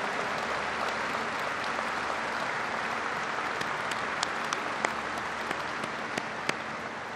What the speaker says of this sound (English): Please rise and give these leaders in the House and in the United States Senate a big round of applause